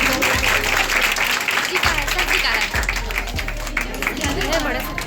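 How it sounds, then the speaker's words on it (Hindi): An audience at a school farewell ceremony claps enthusiastically, steady applause filling the room while people talk and a low rhythmic thumping repeats underneath. "जोरदार तालियां बजाइए।"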